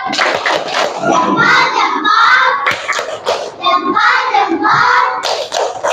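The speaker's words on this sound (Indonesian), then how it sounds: "Ya, tepuk salutnya gimana? Tepuk salut." A class of children performs a rhythmic clapping cheer, tepuk salut, in a classroom lesson, bursts of loud claps alternating with chanted shouts in a repeating pattern, close and lively.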